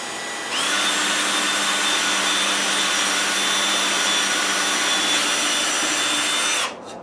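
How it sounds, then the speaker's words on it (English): A loud, steady power-drill whine runs for several seconds as it drills a hole, starting abruptly and cutting off near the end, with no talking over it. "So I'm going to drill a hole with this one now"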